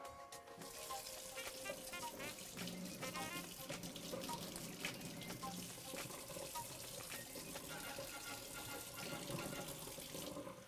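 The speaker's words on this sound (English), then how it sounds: "I'm just going to get some warm water." Warm water runs steadily from a kitchen tap for about ten seconds, a continuous close gushing and splashing into a sink or cup while making orecchiette pasta.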